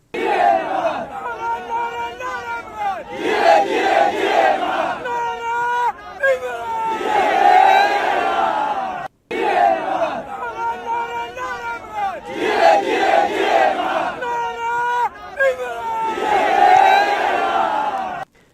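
Large outdoor crowd in Karachi chanting political slogans for Imran Khan, led in call-and-response bursts by a man standing on a car roof; loud, rhythmic massed voices rising and falling, then repeating.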